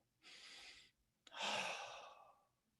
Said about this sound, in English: Let's breathe together with the millions of people all over the world